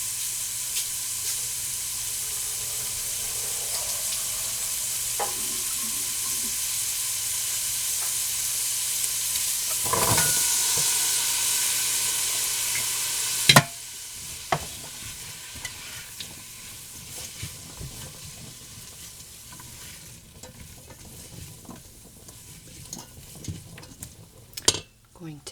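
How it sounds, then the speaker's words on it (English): Drained potatoes tipped into a pot of corn chowder and stirred, with a steady sizzle or steam hiss, a clatter as they go in, then scattered spoon scrapes and knocks against the pot. "I'm going to drain my potatoes and add them."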